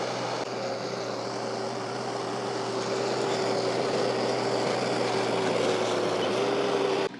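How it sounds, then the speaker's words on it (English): A tractor engine runs slowly and steadily, a continuous low drone with a faint tonal hum holding level throughout before cutting off abruptly at the very end. "go real slow or else it'll bog down the tractor"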